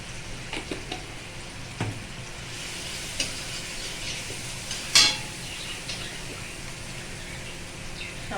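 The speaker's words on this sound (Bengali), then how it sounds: "আদাটা ভাজা ভাজা হয়ে আসছে, আদা টমেটো" Ginger and tomato fry in a pan with spices, a soft steady sizzle broken by scattered spatula taps and one sharper clatter against the pan, heard close with no speech.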